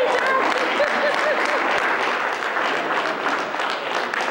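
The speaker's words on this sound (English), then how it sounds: "Please continue clapping as she gets on the stage" Audience applause at a live conference event as a speaker walks to the stage, steady dense clapping throughout, with a voice briefly audible over it near the start.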